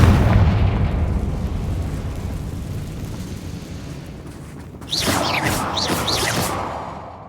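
Confringo spell cast in a Harry Potter video game, a sudden loud fiery explosion with whooshing bursts and crackling pops following a long low rumble.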